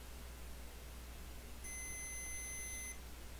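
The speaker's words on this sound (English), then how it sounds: "It'd help if I turn my multimeter to beep mode." A multimeter's continuity beep sounds steady and high-pitched for about a second, clean and continuous, over a faint background hiss.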